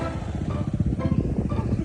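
A Honda Click motorcycle engine drones steadily at moderate loudness outdoors, a low, rough rumble with slight pulsing.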